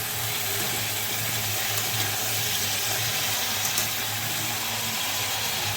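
Vegetables frying in hot oil in a home kitchen pan, a steady continuous sizzle with a low hum underneath, no voices.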